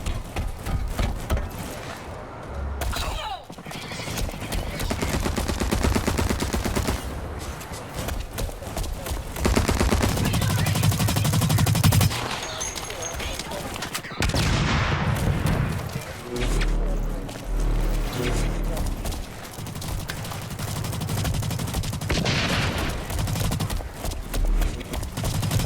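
Rapid gunfire from the video game Guns Up! on PS4, with bursts of shots and loud dense volleys repeating over about 25 seconds, mixed with game sound and a player talking over it.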